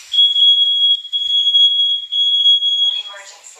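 A Nest smoke alarm that cannot be hushed sounds a loud, steady high-pitched electronic tone in long pulses. A synthetic voice announcement from the device follows at the end.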